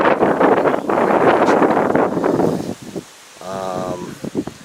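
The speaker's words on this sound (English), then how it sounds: "once again it's pretty breezy" Gusty wind buffets the microphone across an open rural pasture, loud rumbling bursts that ease briefly before returning, with a person talking over it.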